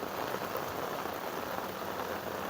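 Heavy rain pours down outdoors in a dense, even roar of drops hitting surfaces, steady and close throughout with no pauses.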